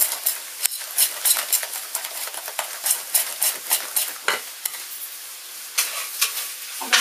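Courgette and egg-and-milk omelette mix stirred in a frying pan for a crust-free Alsatian quiche, with irregular close scraping and clinking strokes over a steady soft sizzle, alone without talk.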